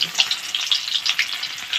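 Whole spices tempering in hot oil for an egg and greens curry, a continuous close bright sizzle and crackle with small popping bursts throughout, no voices.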